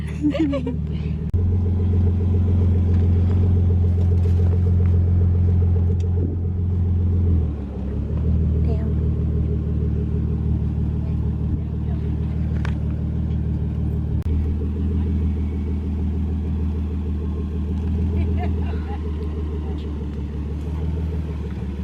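Stick-shift Nissan 300ZX, a clean stock manual car, driving with a steady low engine rumble throughout, one brief dip where the gear changes, and voices talking over it.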